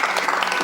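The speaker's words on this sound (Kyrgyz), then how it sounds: "Кол чалып жатабыз." Audience applause at a Kyrgyz television show, steady dense clapping for its whole short length with no voices over it.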